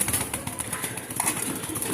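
A pair of racing pigeons coo softly near at hand, with intermittent bursts of wing flapping breaking in over the low, rolling calls.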